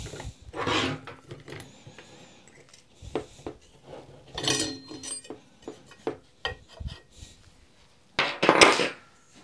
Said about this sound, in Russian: вставляем шестигранник и затягиваем